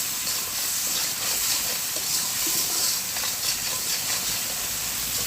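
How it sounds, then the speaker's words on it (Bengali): Masala frying in the little oil left from frying fish, a steady close sizzle and hiss that carries on unbroken without talk. "অল্প একটু তেল ছিল মাছ ভাজার, সেটার ভিতরেই মশলাটা আমি কষিয়ে নিচ্ছি"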